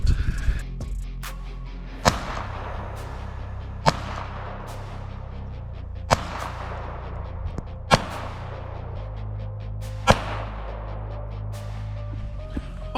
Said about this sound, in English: let's go ahead and shoot it now at 25 yards